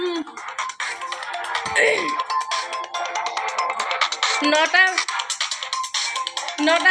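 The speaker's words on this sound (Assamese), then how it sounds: "মোৰ ইয়াত ঘৰত বাজি আছে এলাৰ্ম" An alarm rings inside a home, a repeating electronic tone that runs steadily while someone talks over it almost the whole time.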